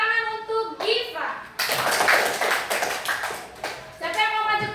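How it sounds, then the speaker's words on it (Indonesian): Schoolchildren in a classroom clapping for a classmate, a burst of lively hand claps in the middle, with a teacher talking before and after. "Beri tepuk tangan untuk Giva."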